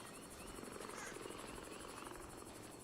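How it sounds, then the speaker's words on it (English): Faint helicopter rotor chop pulses steadily in the distance, a continuous rhythmic thudding over a soft outdoor hiss. "I hear helicopters."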